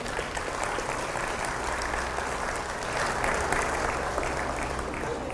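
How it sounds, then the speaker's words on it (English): A crowd claps steadily for the senior showman at a county fair, an even, sustained round of applause at moderate distance with a slight swell midway and no pause throughout. "Showman a round of applause"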